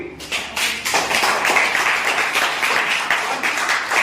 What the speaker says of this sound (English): So we should clap for him.